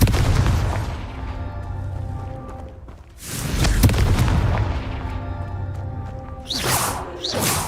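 Confringo fire spell explosions in Hogwarts Legacy, with two heavy booming blasts, each followed by a crackling, ringing tail, and a sharper burst near the end.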